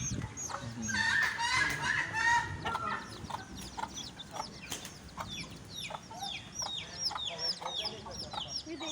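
Chickens cluck and squawk on a poultry farm, with a protective hen guarding her chicks, several birds calling close by in irregular bursts, and quiet talk in the background.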